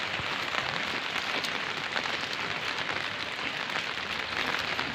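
Steady rain pours in the evening, a dense continuous hiss of drops hitting surfaces all around, loud and unbroken, with no voices.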